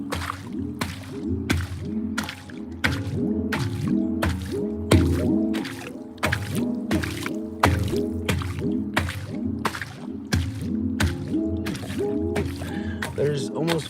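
A handpan is dipped repeatedly into water, giving a steady rhythmic run of ringing metallic tones that bend and warble as the drum enters the water, each strike followed by a watery splash, close and continuous throughout.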